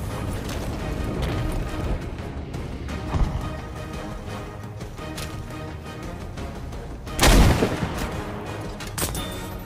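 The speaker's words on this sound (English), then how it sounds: "we have It's Your Boy Psycho teaching a camping sniper a painful lesson with the help of his bazooka on Armada" Bazooka fire from the Battlefield V video game on the Armada map, with scattered gunfire cracks and impacts followed by one loud blast near the end, set in a busy battle soundscape.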